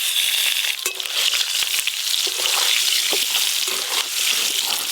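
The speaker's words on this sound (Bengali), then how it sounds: "একদম লাল লাল করে আলুগুলো ভাজা হয়ে গেল" Potatoes deep-frying in hot oil for a chicken curry meal, a steady dense sizzle throughout with occasional spoon clinks, close and fairly loud, no talking.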